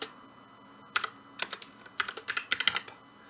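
Someone types a folder name on a computer keyboard, with a run of sharp, close keystroke clicks that start sparse and then come in a quicker irregular burst over a faint background hiss.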